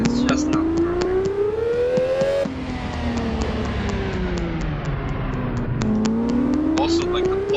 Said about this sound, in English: Also, like the pop, the upshift, that just perfect.